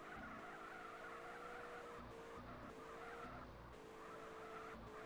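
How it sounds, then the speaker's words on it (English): Car drifting with 4WD drift handling in GTA San Andreas: a continuous engine drone under sustained tire squeal, with pitch shifts as the skid changes. "As you can see, it does drift now"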